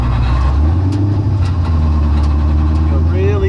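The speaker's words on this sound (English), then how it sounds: "We're gonna back out of the driveway here." A vehicle engine idles low and steady as it reverses out of a driveway on a new reverse gear, a constant close rumble with a faint rising whine near the end and a voice talking over it.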